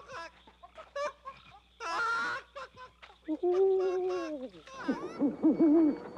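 Owl-like hoots ring out in a comic scene, apparently voices imitating owls, breaking into wavering calls mixed with snickers and chatter, fairly close and overlapping.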